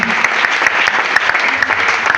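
A church congregation applauds steadily, a dense even clatter of many hands that fills the room throughout, with voices faintly underneath.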